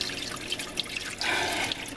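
Dirty water drains out of a laundry tub in an RV, gurgling and trickling close by, with a brief stronger rush toward the end.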